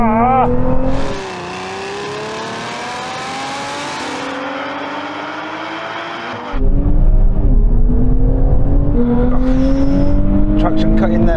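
Sports cars in a drag race, a Nissan Z, Porsche GT4 RS, Toyota Supra and Lotus Emira, roar off the line and accelerate hard. Engine pitch climbs repeatedly through gear shifts, loud and close, with a sudden cut between runs.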